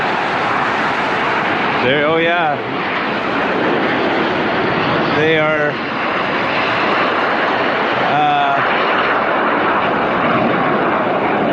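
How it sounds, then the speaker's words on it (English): A distant military jet airplane rumbles steadily through trees near an airport that also serves military aircraft, a broad continuous engine roar while people talk briefly over it. "I hear an airplane getting ready to take off over yonder."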